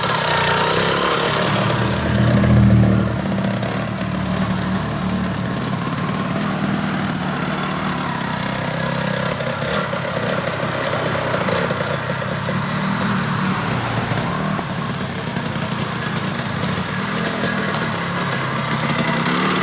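A 1973 Penton 175 Jackpiner motorcycle in mint condition runs steadily, its small two-stroke engine buzzing loud and close with a brief swell near the start, then holding an even drone to the end.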